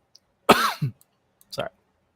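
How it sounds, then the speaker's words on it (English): A single harsh cough followed by a shorter second cough, then a brief throaty catch, close and clear. "coughing on my own spit"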